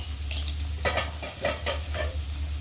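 Potatoes fry in a pan with garlic, ginger and cumin paste, tomato and chili powder, heard as a low, steady sizzle under repeated scraping strokes of a spoon stirring against the pan at a slow, even rhythm.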